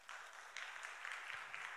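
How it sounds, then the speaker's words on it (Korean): A congregation claps during a Sunday church service, a faint, steady patter of many hands with a few louder accents, with no talk over it. "우리 뜨거운 박수로"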